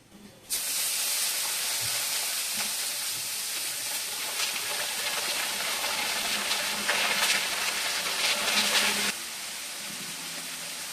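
Mustard seeds hit hot oil for a tempering and break into a loud, steady hiss and crackle that starts abruptly and runs about eight seconds before dropping to a quieter simmer.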